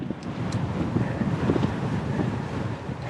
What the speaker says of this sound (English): And into the wind!